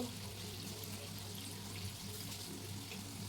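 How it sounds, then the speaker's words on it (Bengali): Oil is poured into a pan for frying vegetable patties over very low heat, a soft continuous pouring trickle heard faintly and close. "তো আমি একটু এইভাবে তেল দিয়ে দেবো, আর একদম কম আঁচে কিন্তু এটা ভাজতে হবে।"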